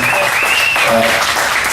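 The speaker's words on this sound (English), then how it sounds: "A big round of applause." Studio audience bursts into applause after an interview, a dense, loud, even roar of clapping with a faint tonal whine running over it.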